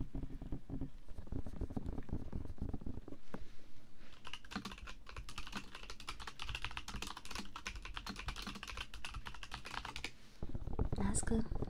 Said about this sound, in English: Typing on mic.